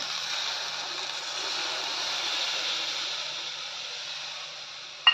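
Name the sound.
milk poured into pan of ghee-fried sago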